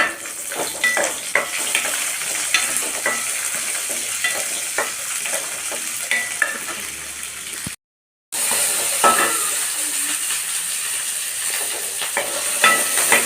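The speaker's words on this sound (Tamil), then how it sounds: "சின்ன வெங்காயம் ஒரு இருபது வெங்காயம் உளிச்சு அதில் சேர்த்துடலாம்" About twenty peeled shallots and curry leaves fry in an oiled pan with a constant, close hissing sizzle broken by frequent stirring clicks and scrapes, interrupted by one brief moment of silence.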